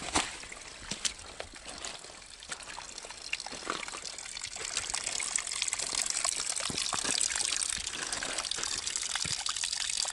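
Water runs and trickles steadily at a backcountry water source in the woods, a close, continuous splashing gush that grows slightly louder over ten seconds.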